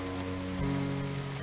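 Steady rain falling on a surface in a small town, a dense, continuous hiss with a low hum underneath, close and even throughout with no voices.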